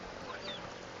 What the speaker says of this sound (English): There's roughly 50 chickens in here right now.